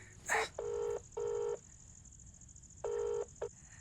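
Telephone keypad tones ring out as a number is dialed: several sustained beeps in a broken rhythm, with a short chirp at the start and a brief tone near the end, over a faint steady high hum.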